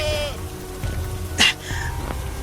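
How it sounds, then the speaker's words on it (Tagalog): A goat out in the open rain bleats faintly from a distance, one wavering cry over the soft steady patter of rainfall and a few dull knocks. "May kambing sa di kalayuan."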